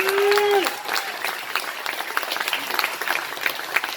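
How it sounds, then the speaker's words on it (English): Wedding guests applaud after a best man speech, a dense sustained round of clapping that holds steady for several seconds as the emcee's voice fades out at the start. "Give it a round of applause for Michael Brooks."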